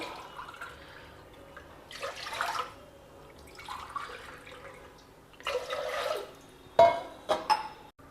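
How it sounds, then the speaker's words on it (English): Water poured into a pot holding rice and split green gram, in bursts of splashing pouring with pauses between, ending with a few sharp clinks of a cup or vessel against the pot, close and moderately loud with no talking. "So, I am adding 3 cups of water."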